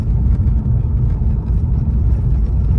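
A car engine rumbles and vibrates while driving, the heavy steering beast producing a loud, steady low-frequency drone with shaking resonance throughout.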